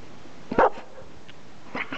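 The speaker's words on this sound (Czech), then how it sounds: "Štěkej." Abby, a six-month-old young dog, gives one sharp bark on command, followed by a couple of quieter yips a second later, close and otherwise quiet.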